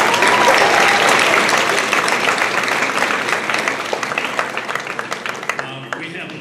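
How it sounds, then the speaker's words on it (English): An audience at a seventh grade choir concert applauds the choir boosters. Loud, dense clapping starts at full strength and slowly thins into more distinct individual claps as it fades over several seconds. "So a big round of applause for our boosters"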